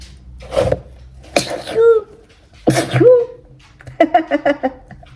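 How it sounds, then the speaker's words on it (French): A close, loud sneeze and a second one after it, each a sharp burst with a voiced tail, followed by quick breathy vocal sounds. "Attendez, je vais éternuer."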